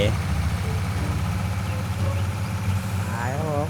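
A tractor engine in Farming Simulator 19 idles with a low, steady rumbling hum throughout, while people talk over it.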